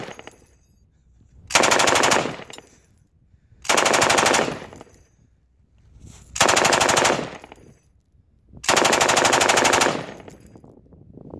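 Four long bursts of automatic fire from an M249 SAW machine gun fired from the shoulder, each lasting about a second, loud and close, with short quiet gaps between them.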